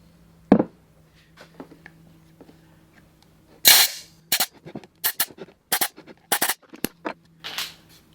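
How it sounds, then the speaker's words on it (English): Compressed air is blown in short, loud hissing bursts into a mold holding cast asphalt, mixed with sharp clicks and knocks against a quiet background. "I might shoot some air in there."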